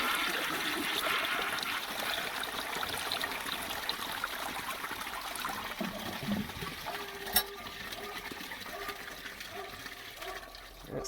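Water trickles and swirls through a 1957 Peerless Forward Trap trailer toilet being flushed, a continuous gurgling rush close by with a sharp knock midway.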